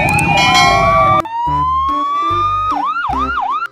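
A toy police motorcycle siren wails loudly and alone at close range: a steady rising electronic tone, then a few quick up-and-down warbles, with no talking.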